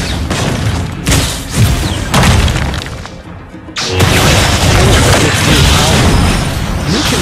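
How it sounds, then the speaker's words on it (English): Loud, dense booms and crashing blasts from a Mobile Legends battle as a turret is destroyed, continuous heavy impacts with a brief dip in the middle before the explosive din resumes at full strength. "Our turret has been destroyed."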